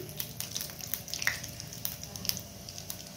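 Cumin seeds sizzle in hot oil for a ragda pattice, a soft steady fizzing with scattered small crackles and pops, fairly quiet and close, no voices over it.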